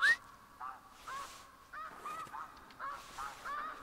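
Snow geese in a hunting video game honk repeatedly in short, nasal calls, several birds overlapping at moderate volume with brief pauses between bursts.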